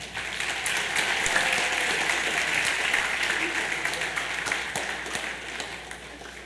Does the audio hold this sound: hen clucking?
no